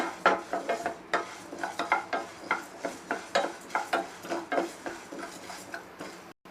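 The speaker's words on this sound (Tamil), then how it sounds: "இதே நம்ம வறுக்கலாம் எல்லாமே சிம்மில் வச்சே வருங்க" Spices such as coriander seed dry-roasting in a pan on a low simmer for masala powder, with steady rhythmic scraping and stirring strokes against the pan, close and moderately loud, with no talk.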